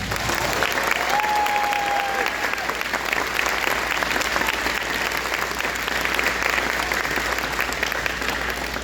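Crowd at a cadet band competition closing parade applauding and cheering for a third-place award announcement, dense sustained clapping with voices throughout, loud and close.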